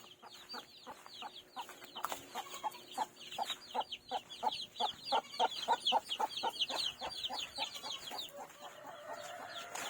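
A lively run of rapid chicken clucks and squawks, many birds at close range in a continuous chattering rhythm, with no talking.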